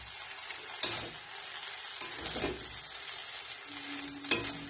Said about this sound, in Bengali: এরপরে এর মধ্যে যে সিদ্ধ করা ভাতগুলো আছে, ভাতগুলো এখন ধোয়া উঠছে। এখন এগুলো ওখানে মেশাবো।